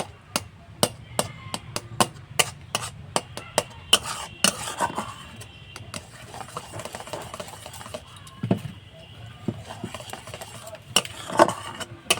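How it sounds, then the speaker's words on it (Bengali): Crushed puffed rice being stirred into hot milk with ghee in a pot: a close, rhythmic series of sharp spoon clinks and scrapes against the metal, thinning out briefly before resuming. "এটা অল্প অল্প করে দিতে থাকবো আর এইভাবে নাড়তে থাকবো"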